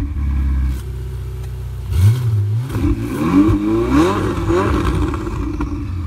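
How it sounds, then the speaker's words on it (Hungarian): A Ferrari 488 GTB at a live demonstration idles with a deep low hum, then its engine is blipped several times, each rev climbing sharply and falling back, loud and close with no talking. "Csajozós gázfröccsök."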